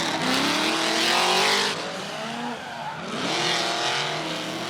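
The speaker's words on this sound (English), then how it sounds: "What a noise coming from that twin supercharged V8 under the bonnet of Brad Toohey's car" Drift cars battle at Sydney Motorsport Park, a twin supercharged V8 chased by a big turbo JZ engine, roaring loud and close with rising and falling revs and bursts of tyre squeal.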